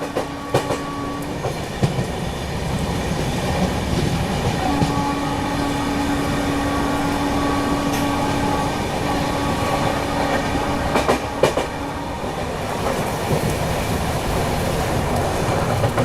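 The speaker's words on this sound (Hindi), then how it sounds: "स्पीड अप हो रही है अपनी ट्रेन।" A Rajdhani passenger train picking up speed on rails at night rumbles loudly with rhythmic clickety-clack wheel beats and occasional squealing tones, heard close from aboard.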